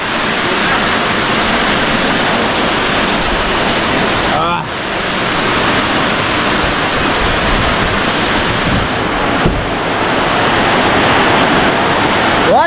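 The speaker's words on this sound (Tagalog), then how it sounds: "Uwan dito sa amin." Heavy rain pouring down at a home where water is getting inside, a loud, dense, unbroken hiss that continues for the whole stretch.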